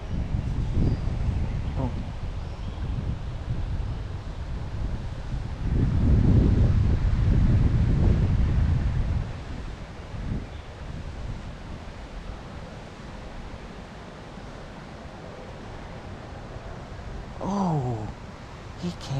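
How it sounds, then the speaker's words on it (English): Wind gusts buffet the microphone beside a cold, clear tailwater river, a rough roaring rush that swells loudest midway and then eases, with a brief voice near the end. "Wind."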